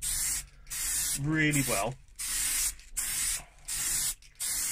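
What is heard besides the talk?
spray painting primer on a car fascia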